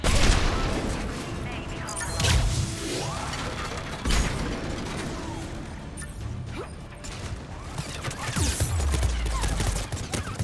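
Turret gunfire in the video game Mass Effect 3, sustained bursts of shots and mechanical clanking with crashes and booms throughout, dense and loud with game noise layered over it.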